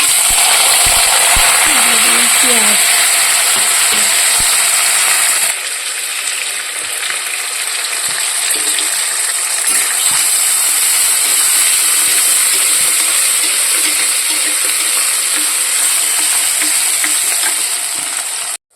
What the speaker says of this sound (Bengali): এদিকে তেলের উপরে গোটা গরম মশলা দিয়ে দিয়েছি